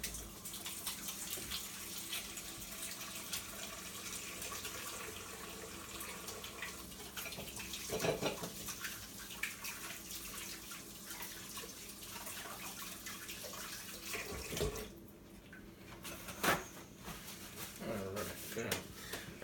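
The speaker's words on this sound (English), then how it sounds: "So, let's wash my hands here." Hands are washed under a running kitchen tap, a steady faint rush of water with splashes and a few knocks, while someone talks.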